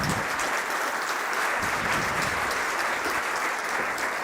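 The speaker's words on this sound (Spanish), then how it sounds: "Que se escuche el aplauso." Steady audience applause at a sustainability report presentation, a dense, even wash of clapping from a crowd that holds at full strength throughout.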